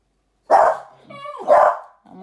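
A dog gives two loud, close barks about a second apart, with a short whimpering whine between them and a brief, softer sound at the end.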